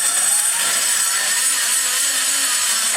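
A handheld grinder works inside the intake port of a small-block Chevy ProComp cylinder head, removing raw material at the port entrance with a steady, continuous high-pitched whirring rasp that stays loud and even throughout.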